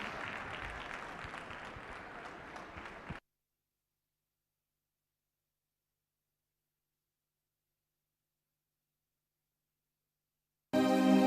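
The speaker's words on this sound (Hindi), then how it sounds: "तो आइए जोरदार तालियों से अभिनंदन करते हैं इन सभी प्रतिभागियों का" An audience claps for the performers of an Ek Bharat Shreshtha Bharat dance drama at Pragati Maidan. A dense burst of applause runs for about three seconds, then silence, and clapping resumes briefly at the end.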